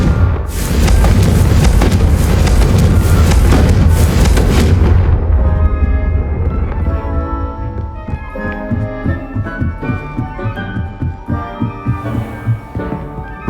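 A Confringo spell blast in Hogwarts Legacy hits as a loud, booming explosion with a heavy low rumble. It fades into throbbing game music with a pulsing beat.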